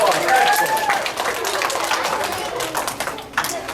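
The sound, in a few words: audience applause for a child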